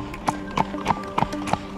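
A horse named Tizzy out on a ride toward the woods, hooves clip-clopping in a steady, even rhythm of about five close, clear footfalls on a hard surface.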